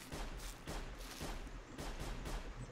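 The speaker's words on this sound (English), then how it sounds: "I'm hearing gunshots." Gunfire in the survival game Sir, You Are Being Hunted: a string of irregular shots, fairly faint and distant, repeating every half second or so through a steady ambient background with no talking.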